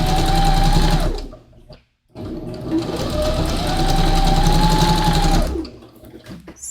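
Sewing machine running steadily as it stitches a round neckline on stretch fabric, with a near, continuous whirr that stops briefly for about a second before starting again and running on.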